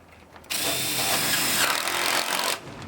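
A power drill drives a screw into a greenhouse frame, a steady loud whir of about two seconds that starts abruptly and cuts off, with quieter background before and after.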